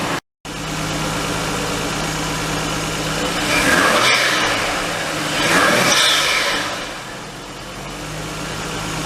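Nissan R32 Skyline with an RB20DE engine, fitted with NP Boosted ignition coils, idling steadily and then revving up twice in smooth rising-and-falling sweeps, loud and close, with no talking.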